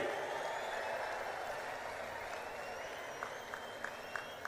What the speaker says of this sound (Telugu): గట్టిగా చప్పట్లు కొట్టి స్వాగతం పలకండి